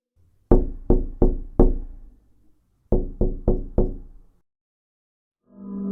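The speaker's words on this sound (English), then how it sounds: "I tried to get his attention by knocking on the glass." Two sets of four sharp, close knocks on glass separated by a short pause, followed by a faint hum at the end.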